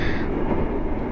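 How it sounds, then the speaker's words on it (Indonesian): Steady low rumble from inside a moving train carriage, a continuous dense roar of wheels and cabin noise, close and unbroken, with no voices. "Iya, aku lagi di kereta ini."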